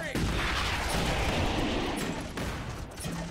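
Dense, sustained gunfire and explosive blasts from a sci-fi real-time strategy battle in Starship Troopers: Terran Command, loud and continuous with overlapping rattling shots and booms throughout.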